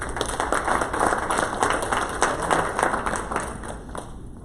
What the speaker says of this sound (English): give her and Lauren another round of applause for their work